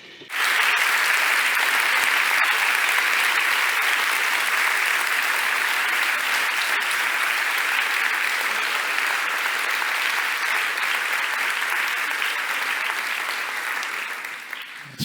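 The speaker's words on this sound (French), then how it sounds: "Applaudissez fort, sinon elle ne vous entend pas." Loud, sustained audience applause at a gathering, a dense wash of many hands clapping that holds steady for about fifteen seconds before tapering slightly at the end.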